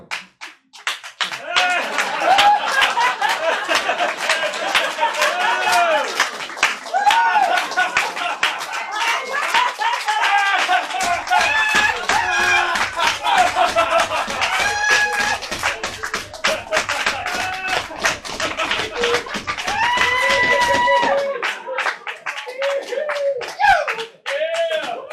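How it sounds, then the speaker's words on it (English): A comedy club audience at a live stand-up show claps in dense, steady bursts mixed with laughter and voices, loud and close, running continuously before thinning out at the end. "Let's practice laughing and clapping together."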